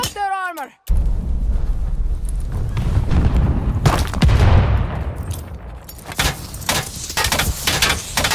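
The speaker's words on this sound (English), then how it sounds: "Enemy's got a glide bomb incoming!" A glide bomb explosion booms in a chaotic Arm's Race video game match, a short voice burst first, then a sustained heavy rumble with repeated blasts and crackling gunfire, loud and close under excited players' talk.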